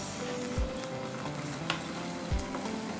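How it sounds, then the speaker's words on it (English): Dhansak spice paste frying in a teaspoon of oil, a steady close sizzle with a few soft spoon knocks against the pan, no voices. "Now, I've added the prepared paste. Cook for a while."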